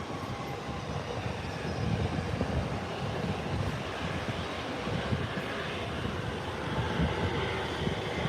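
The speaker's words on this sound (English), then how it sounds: "Whilst American is taxiing to head to the parking gates." American Airlines airliner taxiing toward the parking gates at an airport, a steady broad engine rumble and roar heard from a distance, constant in level with no voices.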